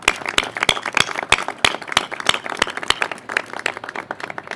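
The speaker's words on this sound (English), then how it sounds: "Let's give them all a round of applause." An audience claps together in a steady patter of sharp hand claps, filling the room for a few seconds at moderate loudness with no voices over it.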